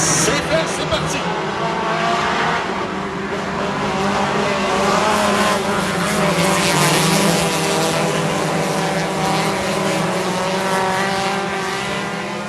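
Sport compact race cars accelerate off the start line together, a loud, sustained, layered engine roar that holds steady throughout, with a voice talking over it.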